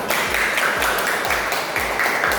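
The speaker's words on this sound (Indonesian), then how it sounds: "Tepuk tangan dulu buat kalian semua" Classroom applause for students, heard as a steady, dense wash of clapping from a group that continues through the whole moment without pause.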